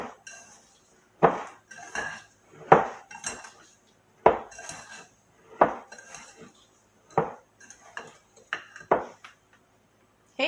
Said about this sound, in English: all we're going to do is just whisk that together